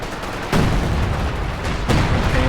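Coordinated artillery barrage in a competitive multiplayer war video game, heavy booming impacts landing in two loud bursts with rumbling continuous fire between them.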